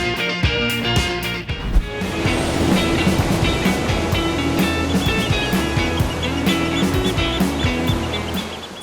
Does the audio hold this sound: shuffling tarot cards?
no